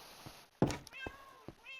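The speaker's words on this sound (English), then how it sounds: "Socks, and this is my cat Bambi." A pet cat in Minecraft meows a few times in quick, short calls near and clear, with soft thumps and faint chime-like tones around them.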